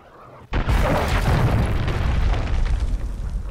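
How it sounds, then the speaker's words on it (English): A cruise missile strike in a combat video game lands with a sudden loud, deep blast after a half second of quiet, then a long, dense rumbling roar that holds steady to the end. "Friendly cruise missile approaching target."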